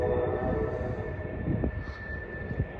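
An eastbound train approaching along the line, heard as a steady low rumble with a faint high tone above it, moderately distant and building slightly, with no voices.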